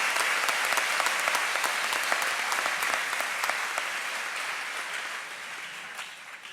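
A crowd applauds honored students at a high school honors ceremony, with steady, dense clapping filling a hall that slowly thins and softens toward the end.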